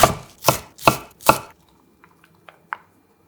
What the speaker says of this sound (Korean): 단맛을 책임질 양파 1개를 반에 갈라 칼집 여러 번 넣고